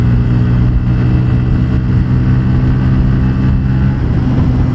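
A Bajaj Pulsar N160 FI ABS motorcycle engine runs loud and close, a deep steady drone that rises slightly in pitch as it revs, with no voices.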